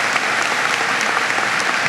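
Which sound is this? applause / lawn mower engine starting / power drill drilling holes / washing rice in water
applause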